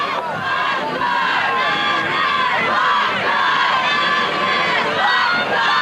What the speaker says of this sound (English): As you hear the Swampscott cheerleaders in the crowd cheering on the Big Blue in the 76th annual Thanksgiving game.